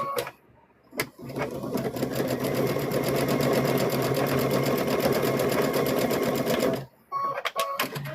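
A sewing machine stitches pieces of a stuffed bear in one steady, fast run of needle strokes lasting about six seconds, loud and close, framed by brief clicks and handling sounds before and after.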